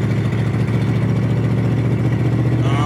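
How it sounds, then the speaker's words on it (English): A loud truck engine idles close by in a steady, continuous rumble, with no talk over it. "listen to that loud truck."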